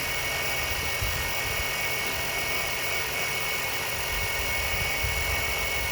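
A steady, loud whining pump drone runs continuously as water-contaminated hydraulic oil is drawn out of a New Holland LX865 skid steer, close and unchanging throughout.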